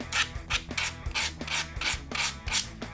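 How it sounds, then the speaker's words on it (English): Rhythmic back-and-forth rubbing strokes of a sanding sponge smoothing the tip of a cosplay foam weapon, about eight passes in quick succession, close up and fairly quiet. "You could even go back in with a sanding sponge and smooth that down"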